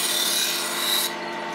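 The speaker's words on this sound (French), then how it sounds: "je vais venir peaufiner l'affûtage en réduisant aussi l'angle" Knife blade being sharpened to refine the edge at a lower angle, a steady close abrasive rasp of continuous rubbing strokes that stops abruptly near the end, with no talking.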